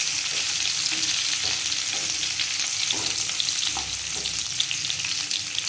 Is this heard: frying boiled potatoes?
yes